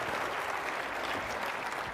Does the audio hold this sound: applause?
yes